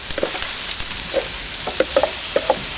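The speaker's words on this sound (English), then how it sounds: "Just listen to that sizzle." Peppers and onion sizzle on a hot BBQ griddle, a constant close hiss dotted with small pops and crackles, with no voices.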